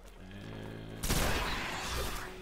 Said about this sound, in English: Let's check out that hand cannon's power.